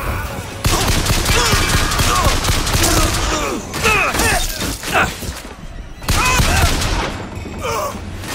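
Loud, dense bursts of gunfire in the BioShock Infinite video game, rapid overlapping shots and crashes close by, with shouting voices mixed in and brief pauses between volleys.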